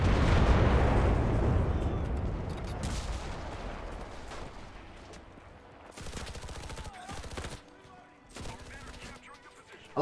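Full-auto gunfire from the video game Enlisted, Battle of Berlin, comes as dense rattling bursts with heavy booming explosions early on, then sharp separate volleys later, loud and close throughout.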